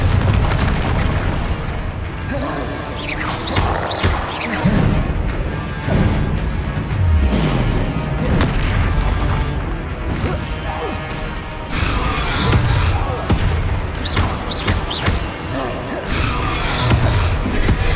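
Explosive Confringo spell blasts in Hogwarts Legacy on PS5, loud repeated booms and crashes mixed with combat effects and spoken spell incantations across the fight.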